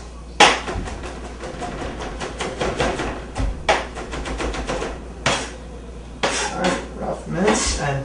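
A knife mincing garlic cloves on a cutting board gives quick, irregular chopping taps, some sharper knocks standing out, fairly close and clear with light kitchen background noise.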